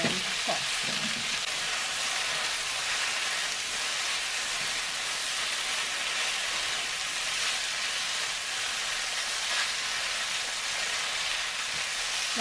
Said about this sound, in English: Now add in the cooked dumplings and toss.